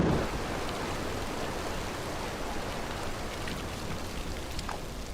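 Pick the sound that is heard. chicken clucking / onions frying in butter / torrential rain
torrential rain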